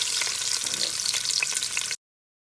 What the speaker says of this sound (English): Here I have put in my eggs in the oil, and I'll just fry this a little bit